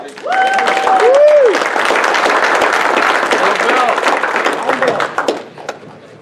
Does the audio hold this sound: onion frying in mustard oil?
no